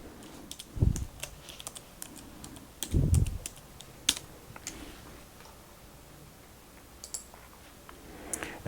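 Password being typed on a computer keyboard during a Linux install, with scattered sharp key clicks and a couple of heavier low thuds from the keys, fairly close and otherwise quiet.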